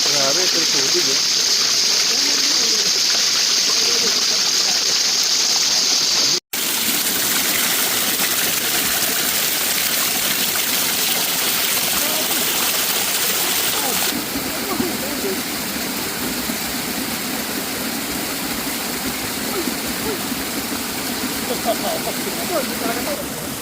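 Rushing river water at a campsite in Indang, Cavite gives a loud, steady broadband roar that runs the whole way through, briefly cut once, with faint voices underneath.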